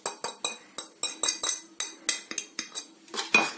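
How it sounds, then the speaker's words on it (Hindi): A metal spoon clinks and taps repeatedly against a bowl as spices are added to two cups of buttermilk, a dozen or so sharp close strikes in an uneven rhythm, with no voices. "तो हम इसमें ये सारे मसाले डाल देंगे।"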